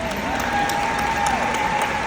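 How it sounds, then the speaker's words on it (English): An audience claps steadily for about two seconds, a dense, moderately loud patter of many hands with a faint tone in the background. "We always pause for a clap"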